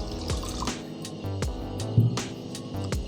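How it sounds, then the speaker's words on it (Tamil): Lemon juice, sugar and water poured into a pan for homemade wax, a steady liquid trickle with repeated drips and small splashes, close and moderately loud. "ஒரு கடாயில் ஆட் பண்ணிக்கிறோம். ஸோ எலுமிச்சம்பழம் ஜூஸ், சுகர், தண்ணி"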